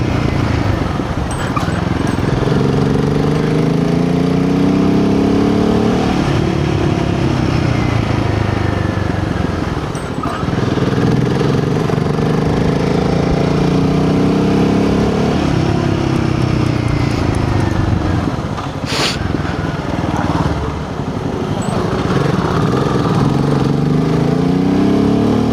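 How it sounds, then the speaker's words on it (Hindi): Loud, close exhaust drone from a Royal Enfield Himalayan 450 motorcycle riding in third gear, with the engine note climbing repeatedly as it accelerates, dipping at shifts, and constant wind rush. "अभी सिर्फ थोड़ा सा ASMR एग्जॉस्ट साउंड ही सुनो"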